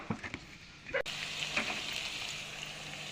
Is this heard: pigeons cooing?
no